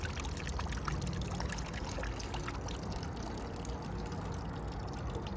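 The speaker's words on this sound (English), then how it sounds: "This is the other water feature." A garden water feature in a rusty flower garden, with water pouring and splashing in a steady, dense, continuous rush, close and fairly loud, with no voices.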